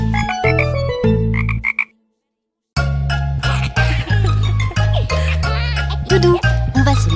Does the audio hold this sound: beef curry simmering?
no